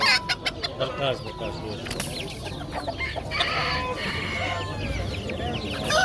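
Broiler chicks cluck and cheep densely at a busy poultry market, with other fowl calling around them and a background murmur of people talking.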